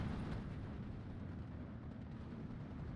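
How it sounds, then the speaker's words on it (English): Distant mortar fire in the wartime strategy game Steel Division 2, a continuous low rumbling barrage of muffled blasts, steady and fairly faint throughout. "And there are reinforcements for the mortars. The mortar now going for this"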